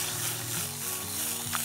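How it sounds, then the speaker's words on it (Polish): Bell pepper sizzles and fries in a hot pan, a steady crackling hiss that holds at an even level throughout, with no talk. "W międzyczasie podsmażę sobie warzywa. Najpierw zacznę od papryki"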